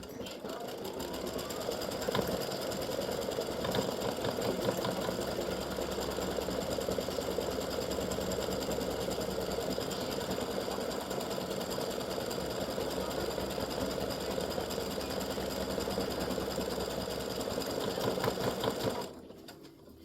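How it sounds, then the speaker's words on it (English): An embroidery machine stitches a loop in pink thread for a freestanding-lace Easter egg gnome, giving a steady, close, rapid mechanical whirring and clatter that runs almost continuously before stopping abruptly near the end. "Just let it stitch the loop in pink."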